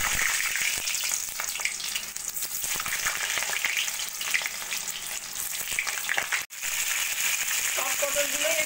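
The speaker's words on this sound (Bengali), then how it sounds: "কড়াইতে তেল দিয়ে দিয়েছি, তেলটা গরম হয়ে গেছে। এবার আমি পটলগুলো ভেজে নেব।" Pointed gourd pieces frying in hot oil in a wok produce a loud, continuous, crackling sizzle with scattered pops and a brief dip in the middle.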